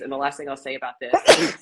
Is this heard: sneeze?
yes